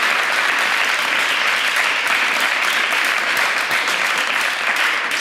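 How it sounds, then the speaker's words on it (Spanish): Lively applause from a lecture audience fills the room, steady dense clapping that continues without pause. "vamos a dar un aplauso"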